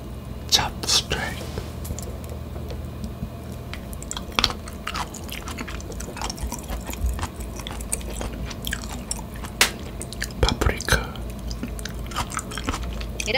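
Close, moist chewing and occasional crunchy bites while eating a home-cooked chop steak, steady mouth sounds through the stretch with faint background noise and soft low murmuring.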